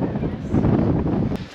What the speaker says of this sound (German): sehr windig.